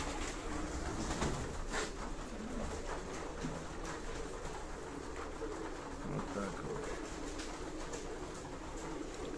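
Pigeons cooing in a keeper's loft of grizzled-neck birds, a steady dense murmur of many soft coos mixed with rustling, with faint voices in the background throughout.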